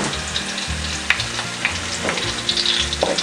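Ginger and garlic sizzle and fry steadily in a pan, a dense, continuous crackle close by with occasional spatters and a low stirring scrape, no voices.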